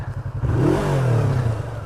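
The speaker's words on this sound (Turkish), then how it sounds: "Gaz vermek istiyoruz abi." A motorcycle with a standard stock exhaust revs on the road. Its steady, close idle rumble swells into one rising, loud rev, then eases back toward idle.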